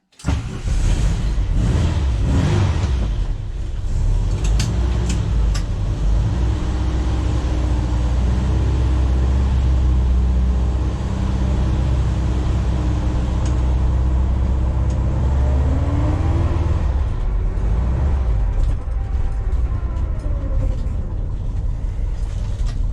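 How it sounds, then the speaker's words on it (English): A 1966 Volkswagen Deluxe 13-window bus with an air-cooled 1968cc engine drives along, its steady rumbling drone heard from inside, rising and falling as it revs and shifts, with road noise throughout and no talking. "I'm just going to get some Starbucks in a 1966 Volkswagen Deluxe 13-window bus."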